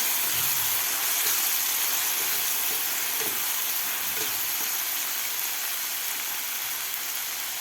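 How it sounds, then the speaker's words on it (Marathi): Tomatoes sautéing with onion in a pan for a dhaba-style peas and spinach curry, giving a steady, even sizzle and hiss with a few faint stirring knocks underneath, no voices. "टोमॅटो सुद्धा व्यवस्थित सॉफ्ट होईपर्यंत आपल्याला परतून घ्यायचं आहे"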